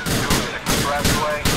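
Gunfire in the Grand Theft Auto Liberty City video game during a terrorist-attack scene: several sharp shots in quick succession, loud and close.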